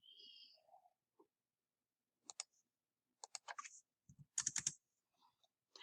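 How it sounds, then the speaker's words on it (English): Short bursts of clicky computer keyboard typing, close and quiet, with separate clusters of keystrokes between silent pauses and a few faint electronic beeps at the start. "I can type in the course number"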